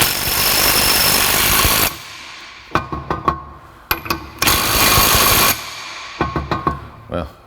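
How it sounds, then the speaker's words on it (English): Pneumatic impact wrench snugging the pinion nut on a Ford 8.8 rear axle, firing in two long rattling bursts separated by short clanks and taps from handling tools and parts. "don't run it down with the impact till it stops. Just run it down till it's snug"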